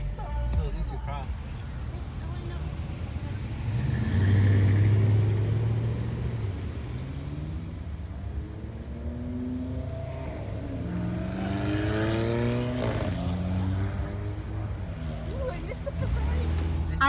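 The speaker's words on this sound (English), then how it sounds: "I miss the most beautiful Ferraris. It just drove by me super quick that way." A Ferrari sports car speeds past on a road near San Juan Capistrano and Dana Point, its engine swelling loudly around the midpoint over steady traffic rumble, with people talking throughout.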